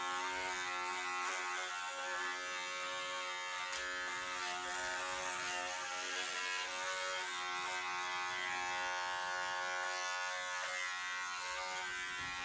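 An electric clipper trims a standard poodle's coat into a lamb trim, its steady close buzzing hum running without a break and no voices over it.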